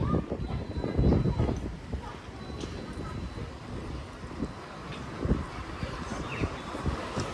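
Wind gusts buffet the microphone outdoors on a walk through a villa area of Seminyak, Bali, in irregular low rumbling bursts of moderate loudness.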